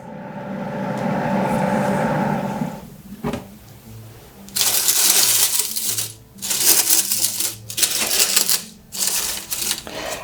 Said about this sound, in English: the leaves are fully dried, and you can hear how crispy they are